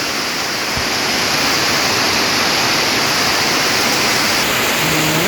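A loud, steady rush of flowing water fills the whole clip like a strong stream or spillway, continuous and close with no voices.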